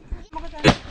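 A Diwali firecracker bursts outdoors in a hill village, one sharp loud bang preceded by a smaller pop, close by.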